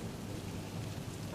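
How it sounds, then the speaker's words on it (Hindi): Rain falling in a cartoon scene at a street potato paratha stall, a steady soft hiss of rainfall with a low rumble beneath, continuous and fairly faint, with no voices. "इतने में बारिश शुरू हो जाती है।"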